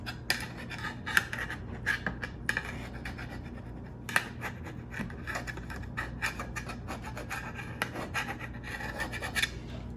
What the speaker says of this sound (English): I'm just taking my favorite icing tool and just kind of loosening it up on the sides.